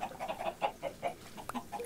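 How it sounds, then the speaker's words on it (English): Chickens cluck in the Minecraft Skyblock video game, a run of short, close, repeated clucks with one sharper squawk near the end, fairly quiet and with no talking. "let's go check on the chickens."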